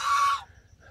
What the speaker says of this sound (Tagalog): Ayan ang mga gansa. Yung mamaingay.